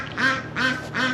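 A duck quacks three times in quick succession, loud and close, each quack a short nasal burst with nothing else heard.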